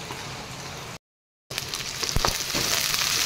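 Onion, ginger, garlic and green chilli fry and sizzle in a pan for a vegetable curry, a steady hiss broken by a brief silence, then louder sizzling with scraping stirs.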